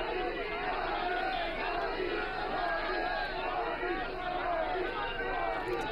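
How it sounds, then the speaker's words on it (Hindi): A large crowd at the Sadaiv Atal memorial chants Modi slogans, a continuous dense roar of many voices with rhythmic shouted cadence, loud and close throughout. "जो मोदी मोदी मोदी मोदी लगातार नारे लगा रहे थे।"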